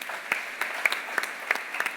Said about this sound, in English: May I have a round of applause, please